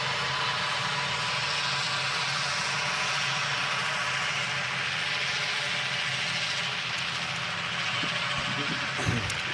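Aer Lingus airliner in classic livery at Manchester Airport, a steady broadband engine roar filling the scene at constant loudness throughout, with no voices.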